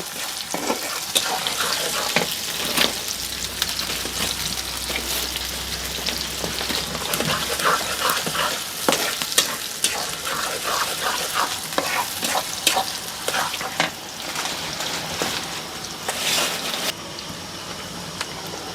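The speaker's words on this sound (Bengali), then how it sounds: "পেঁয়াজ কুচি দিয়ে দিলাম পেঁয়াজটাকে একদিন ভালোভাবে লাল লাল করে বেজে নেব" Chopped onions fry in a pan for a cabbage and chicken curry, a continuous crackling sizzle broken by sharp scraping strokes of a spatula stirring them, close and moderately loud with no talk.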